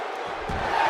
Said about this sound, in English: Crowd going crazy.